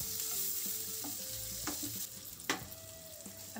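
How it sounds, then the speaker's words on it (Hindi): Green chillies fry in hot oil with a steady, soft sizzle and occasional stirring clinks and scrapes, close by and without talk. "मिर्च को हम 2 मिनट के लिए भून लेंगे तेल में"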